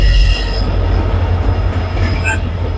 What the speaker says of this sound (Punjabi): ਦੇਖੋ ਇਹ ਟ੍ਰੇਨ ਆਈ ਹੈ